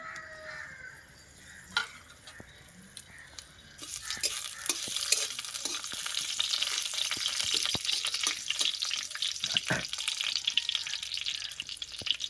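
Bay leaf and garam masala fry in hot ghee for a papaya halwa, starting as a faint quiet crackle, then a brighter, busier sizzle with scraping stirs once more goes into the pan; a crow caws briefly in the background.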